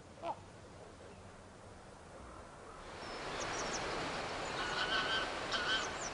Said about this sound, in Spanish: Los ánsares llegan al valle para comer.